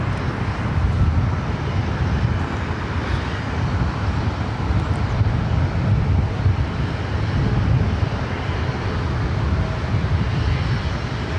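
A 33-year-old Boeing 767-300ER departing LAX for JFK, heard as a steady, loud broadband jet roar that holds at an even level throughout with some wind buffeting the microphone.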